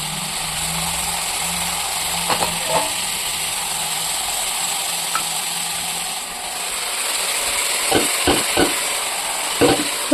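Meat and spices fry in a pan with a continuous sizzle, broken by a few sharp scrapes and knocks as the mixture is stirred.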